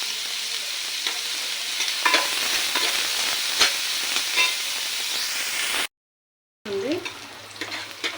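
Sliced onions with salt fry in a pan, sizzling and hissing steadily with occasional stirring clatter, then a brief silence before the frying resumes.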